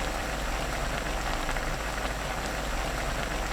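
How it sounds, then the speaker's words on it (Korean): Tteokbokki sauce with onion, green onion and Cheongyang chili boils uncovered over high heat. A dense, steady, close bubbling hiss continues evenly throughout with no voices. "뚜껑 닫지 말고 센 불로 3분 끓여주세요."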